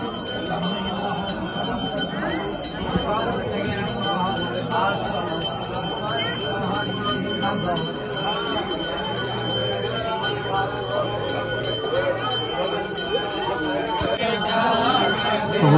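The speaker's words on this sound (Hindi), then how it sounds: "घंटियां सुनाई दे रही होंगी आपको।" Temple bells ring continuously along the pilgrimage approach to Jageshwar Dham, a busy metallic clanging and tinkling that runs steadily under a crowd of voices.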